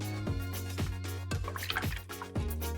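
A watercolor paintbrush swished and rinsed in a jar of water, giving a few close, soft splashy strokes and drips over a steady low hum, with no talking.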